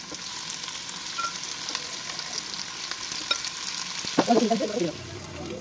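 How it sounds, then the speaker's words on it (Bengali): Flour-coated garlic chicken pieces fry in a pan with a steady moderate sizzle throughout, and a burst of stirring and scraping near the end. "চিকেনগুলো আমার সুন্দরভাবে ভাজা হয়ে গেছে"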